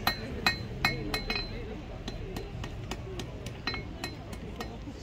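A blacksmith at a medieval fair forges metal on an anvil, squashing the head of a piece with a string of sharp ringing hammer blows, steady at first and then lighter and more spaced, over background crowd murmur.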